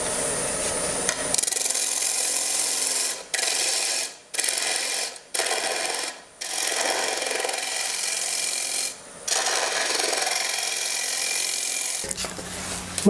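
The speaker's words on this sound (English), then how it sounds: "Tighten this down, do a little bit of turning." Russian olive bowl being turned on a wood lathe with a threaded drive block: a steady, fairly loud scraping rasp of the tool cutting wood, broken by several short pauses as the cut lifts off, with no talking.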